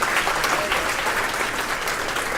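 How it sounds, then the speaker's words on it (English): Audience applause for the Myntra team at a live UX event: steady, dense clapping from a crowd, loud and continuous throughout with no pauses. "give a round of applause to the amazing Myntra team"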